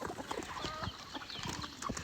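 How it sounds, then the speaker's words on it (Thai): Chickens cluck in a rural Thai village setting, a scatter of short clucks and murmurs at moderate distance, mixed with outdoor background noise and no clear speech. "ไก่"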